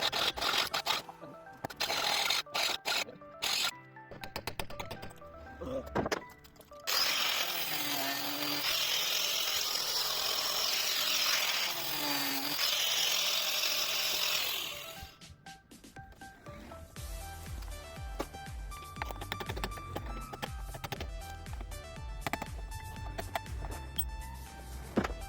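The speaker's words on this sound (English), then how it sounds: "I've got a 3/4 inch drill bit. Let's see if that'll work." A drill driving a 3/4 inch bit into the side of a Luton van whines and grinds in long bursts with pauses, close and loud, followed by clattering handling noises.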